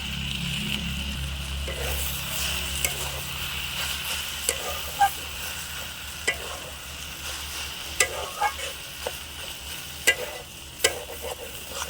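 A flat bean curry stirred in a pan, with a soft, steady sizzle and scattered spatula scrapes and taps recurring every second or so, close and moderately quiet.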